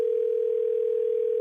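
Steady telephone call tone held unbroken for the whole short stretch, clean and continuous at even loudness with no voices.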